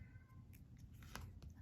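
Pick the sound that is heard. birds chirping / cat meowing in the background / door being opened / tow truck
cat meowing in the background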